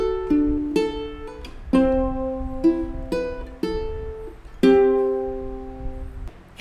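Fingerstyle ukulele playing the worship song Here I Am to Worship, with clear plucked notes and chords struck every second or so, each ringing out and decaying, played solo and up close.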